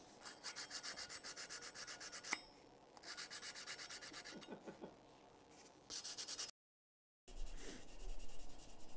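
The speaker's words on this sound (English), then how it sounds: "I'm gonna try to clean my trivet that has a, that little bit of enamel stuck to the trivet with a bit of sandpaper." Sandpaper rubbing enamel off a kiln trivet in quick back-and-forth strokes, close and scratchy, in several bursts separated by short pauses.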